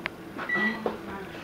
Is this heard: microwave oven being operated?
yes